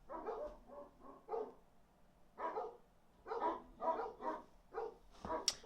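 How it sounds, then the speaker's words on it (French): Several dogs bark in agitated bursts as evening falls, a run of sharp barks, a pause, then another cluster of barks at moderate distance, with no talk. "Il y a le soir qui tombe et les chiens qui s'énervent."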